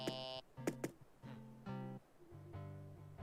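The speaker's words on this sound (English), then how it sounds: "And KK Slider's music all sounds like this." K.K. Slider's music from the Animal Crossing: New Horizons video game plays as bright, synthetic MIDI-like tones in short, bouncy phrases, with a few sharp plucked accents near the start, clear and alone with no talking.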